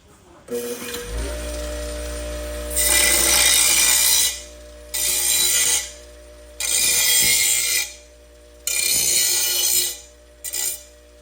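A power tool spins up and hums, then bites into a 3-inch steel exhaust pipe for a 1971 Dodge Charger in several loud, harsh cutting bursts separated by pauses.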